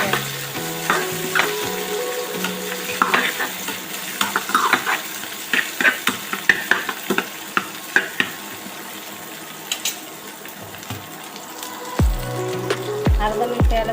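Chopped capsicum and cabbage stir-fry in a hot pan for Schezwan fried rice, a steady loud sizzle broken by repeated scraping and clinking of a spatula against metal, with a few heavier knocks near the end.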